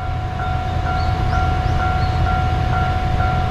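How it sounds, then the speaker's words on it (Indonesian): A train at a small rural station in Japan, heard as a steady, loud rumble with a sustained tonal hum and a faint, repeating chime or signal tone above it, all continuous with no voices. "Kereta pasti berhenti, walaupun ada yang naik atau enggak."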